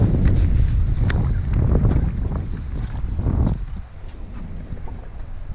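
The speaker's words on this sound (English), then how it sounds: "A lot of wind. There's just wind all the time this week" Strong wind buffeting on a lake during a trout fishing trip, a loud, continuous low rumble of gusts on the microphone that eases slightly near the end, with no talking.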